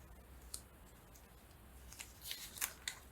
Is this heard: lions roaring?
no